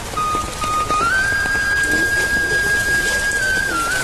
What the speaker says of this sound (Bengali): ধীরে ধীরে বৃষ্টি হচ্ছে।